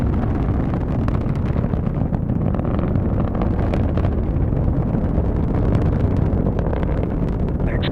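Steady, heavy broadband roar of a ULA Vulcan VC4S rocket's engines during launch and ascent toward max Q, a continuous rumble with wind buffeting and no pauses.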